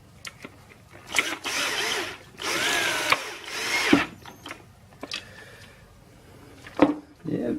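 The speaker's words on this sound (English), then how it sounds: "get a surprising amount of torque on them screws" A Ryobi cordless drill drives screws in several whirring bursts of a few seconds each, with pauses and a clicking clutch between them, close by and with some talk.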